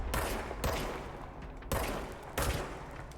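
The service weapon fires in Control: sharp, echoing gunshots, a shot at the start and then about three more spaced over roughly three seconds, each trailing into a reverberant tail with a rumbling background, with no talking.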